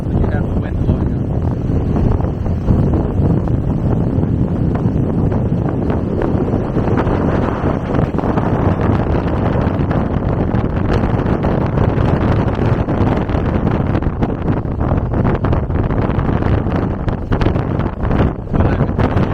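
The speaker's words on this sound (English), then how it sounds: "it's quite nice when you have the wind blowing up." Steady wind blows across the Qatar desert sand dunes, a loud, constant buffeting rush against the microphone that lasts throughout, with faint voices under it.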